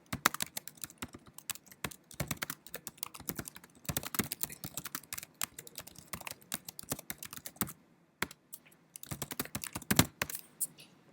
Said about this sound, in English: you're really fast typing that